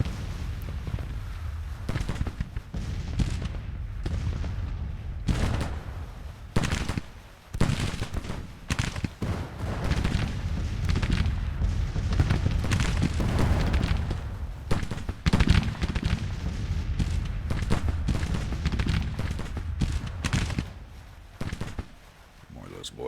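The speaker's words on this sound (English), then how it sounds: "More of those boys firing." Rifle fire from Civil War-era soldiers in Grand Tactician rolls on continuously, a dense crackling fusillade of many distant muskets with heavier booming bursts, mixed with battle din and a talking voice.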